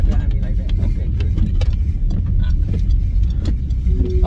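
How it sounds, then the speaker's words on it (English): A car rumbles steadily close by on a rainy road, giving a continuous low engine and tire drone with faint clicks and rattles from inside the vehicle. "I do not like the fact that the car is driving right behind me like that."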